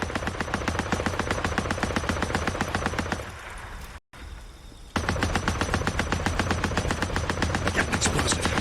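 A heavy machine gun rattles in the Days Gone video game, rapid and loud, in long sustained bursts. The fire breaks off briefly around the middle, leaving a short quieter stretch, then resumes at full rate.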